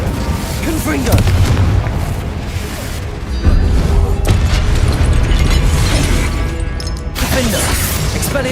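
Booming Confringo spell blasts in the wizarding game Hogwarts Legacy, dense and loud, layered over continuous game music and effects with several heavy impacts across the span.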